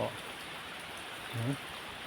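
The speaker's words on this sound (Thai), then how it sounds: "ฝนตกนะครับ" Steady, dense rain hisses throughout, with a brief low voice murmuring partway through.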